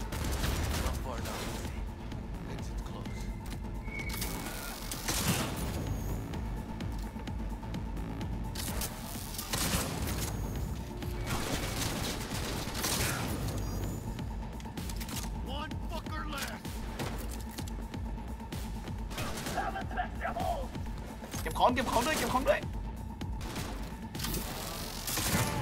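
Bursts of gunfire in the video game Cyberpunk 2077, repeated sharp shots and rattling volleys spread across a busy mechanical backdrop, with someone talking over much of it.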